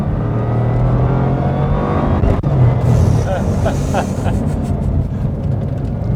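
A Bugatti Chiron Pur Sport accelerates hard on a public road in a lower gear, a loud, deep engine roar heard from inside the cabin with a brief shift break midway and people talking over it.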